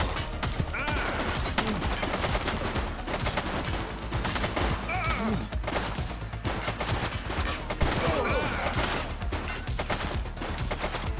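A suspect fires a gun during a police patrol in Chinatown in the game The Precinct; dense, continuous crackling shots and bursts fill the scene, with voices shouting faintly underneath.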